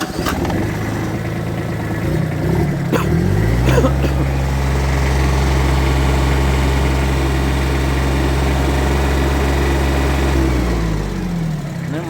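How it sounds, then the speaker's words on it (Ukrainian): A small tractor engine idles steadily close by after a couple of sharp knocks near the start, running with an even low putter. "Нема ні диму, нічого, моторчик працює рівно,"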